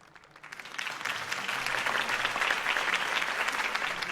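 Crowd applause in a Batman video game, rising from a quiet start to a steady, full clapping wash that holds for several seconds at moderate loudness.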